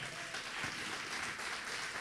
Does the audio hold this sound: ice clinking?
no